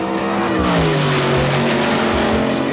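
A drag racing car with a 400 Chevy on a Dart block with AFR alloy heads and a Jericho 4-speed revs loudly up close, its engine note climbing and falling in steady harmonic sweeps with no voices.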